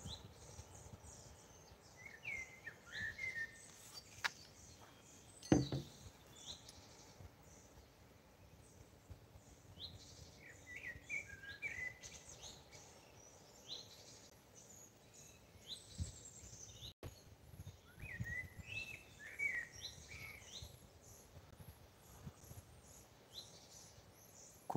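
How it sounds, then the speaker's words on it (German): Outdoors in a quiet valley, several birds sing faintly from a distance, including a great tit, robin, chaffinch, blackbird and wood pigeon, scattered chirps and phrases over a soft ambient background. "Kohlmeise, Rotkehlchen,"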